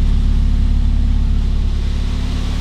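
Mazda Miata rally car with its supercharger removed and a stock airbox, its engine running with a steady, close, low rumbling drone and an even pulsing hum. No one speaks over it.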